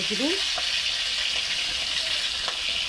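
Spices sizzle steadily in hot oil with a continuous hiss, and a brief vocal murmur sounds near the start.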